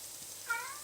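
A cat meows once in the background of a home kitchen, a brief, faint, rising cry about halfway through, over quiet room noise.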